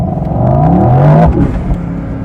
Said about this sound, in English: The engine is already warm and let's do a quick launch.